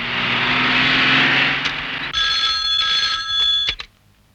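A telephone rings in a scene from the Hindi film Suraj. A stretch of steady hiss gives way to a clear, fairly close electronic ring lasting about two seconds before it cuts off abruptly.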